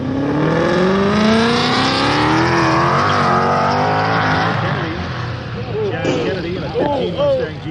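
A 2015 Ford Mustang GT at a car show revs loudly, its engine note climbing and then holding steady before fading, while people talk over it and nearby.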